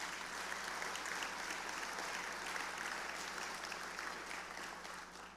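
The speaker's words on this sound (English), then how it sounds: "a round of applause for all of you guys" Sustained applause from a conference audience at an oil and gas association gathering in Alaska, a full, continuous roar of many hands clapping at a distance, fading slightly toward the end.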